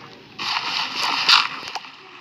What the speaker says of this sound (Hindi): तो ऐसे करके हमको यहाँ पे पानी डालना है